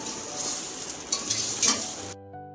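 Pulao cooking in a pot, with a steady sizzle and scraping stir strokes and a few utensil knocks against the metal, close by, ending abruptly in quiet.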